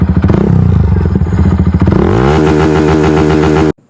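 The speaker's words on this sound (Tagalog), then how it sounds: "Try natin sagarin yung RPM niya kung ilan ang RPM limit niya." Motorcycle engine, fuel-injected Barako 3, revved hard up toward its 9,500 RPM limit, loud and close with a rising pitch that holds steady at the top before cutting off abruptly.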